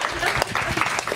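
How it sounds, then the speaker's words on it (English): A brief burst of dense audience applause, many hands clapping together at close range. "I like this way of clapping."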